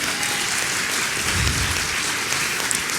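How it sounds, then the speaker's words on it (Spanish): A congregation at a church sermon breaks into sustained applause, a dense, even roar of clapping throughout. "Eso merecía un aplauso"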